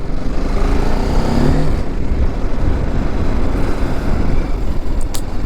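Motorcycle cruising along a four-lane highway, NH50, with steady engine drone and broadband wind and road roar throughout, loud and continuous with no talking.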